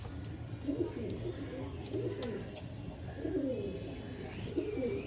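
Low, soft cooing from several Andhra breed pigeons, repeating in gentle rolling phrases close by, with faint background noise.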